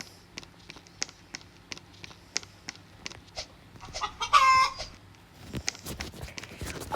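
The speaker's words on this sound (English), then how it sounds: "How is this guy doing chicken noises?" Chicken clucking noises in the Roblox game Brookhaven, a run of short sharp clucks in an even rhythm, then a louder burst of squawking before the clucks resume, fairly close and with no talk.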